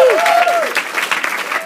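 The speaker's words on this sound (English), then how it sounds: "Another round of applause for Farah for putting this together." A crowd claps and cheers loudly, a brief bright whistle rising over the start before the applause carries on.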